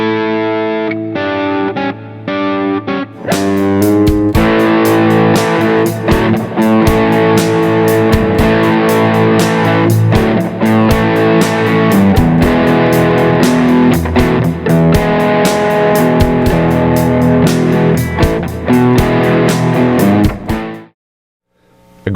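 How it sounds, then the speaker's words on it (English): Electric guitar through a punk-style overdrive pedal, a thick, saturated distorted tone played in steady strummed chords after a few sustained opening notes. It stays loud and dense throughout, then cuts off abruptly at the end. "Now we're getting into more distortion"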